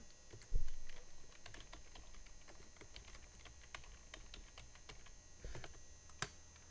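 Computer keyboard typing while information is entered into a bag design form, a scattered run of light clicks and taps with a couple of louder strikes, close and alone over a faint room hum.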